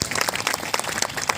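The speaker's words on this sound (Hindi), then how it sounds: "ताली बजाओ इसके लिए।" An indoor audience at a celebration applauds loudly and continuously, dense close clapping from many hands for a short burst.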